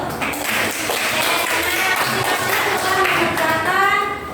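Classroom applause fills the room, a dense, close patter of many hands clapping steadily for several seconds.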